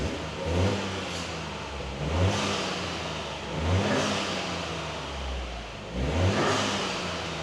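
A Toyota Yaris GR exhaust revs repeatedly, several short throttle blips rising and dropping back, heard up close with steady engine rumble between them.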